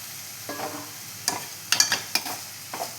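Cluster bean stir-fry with crushed peanuts cooks in a pan under a low sizzle, with a series of distinct spatula scrapes and stirs, several in quick succession, close and clear.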